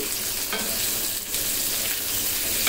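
Onion stir-fried in a pan until lightly reddish for spicy broiler chicken, a loud continuous sizzle broken by periodic spatula scrapes, with no voices.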